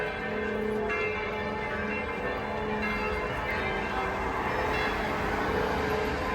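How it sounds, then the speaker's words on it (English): Church bells ring out over Tirana at night, a steady dense wash of overlapping peals heard at a distance amid city ambience, with no talking. "just be quiet now and let the bells go a little bit"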